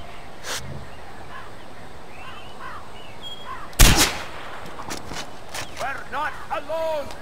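Gunfire in the video game Far Cry 4: one loud sharp shot stands out midway, with fainter game sounds and chirpy effects around it while someone talks.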